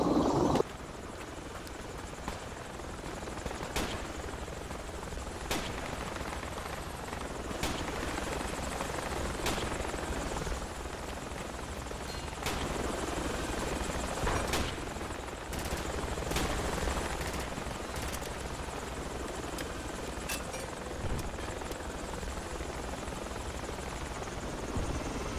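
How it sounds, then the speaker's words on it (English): A helicopter in the video game Battlefield 2: Project Reality, heard as a steady, loud rotor and engine drone running throughout, with scattered sharp cracks of gunfire over it. "Chopper is inbound."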